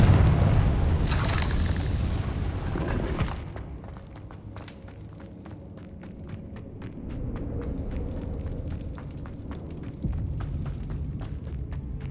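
A Confringo spell explosion in Hogwarts Legacy opens with a loud, rumbling fiery blast that cuts off after a few seconds, followed by quieter ambience with scattered light taps and footsteps.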